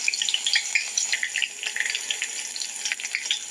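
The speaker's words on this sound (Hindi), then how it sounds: "गरम होने पे थोड़ा सा हम इसमें ग्रीन चिली, गार्लिक चॉप्ड लहसुन डाला" Green chili and chopped garlic sizzle in hot oil for a tadka, a close, steady crackling fry with bright popping spatters throughout, no voices.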